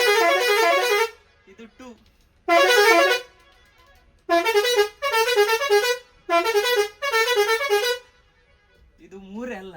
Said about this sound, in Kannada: ಇದರಲ್ಲಿ ಇರುವುದು 23 ಹಾರ್ನ್, ಹಾಗೇನೆ 32 ಸಹ ಬರ್ತದೆ. ಮ್ಯೂಸಿಕಲ್ ಹಾರ್ನ್ ಅಂತ ಹೇಳ್ಬೋದು.